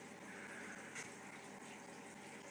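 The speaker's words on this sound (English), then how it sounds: "all the plates are bubbling away nicely" Bubbling and gushing liquid inside the plates of a StillDragon column still during a distillation run, a steady continuous wash of churning sound with a brief louder swell near the middle.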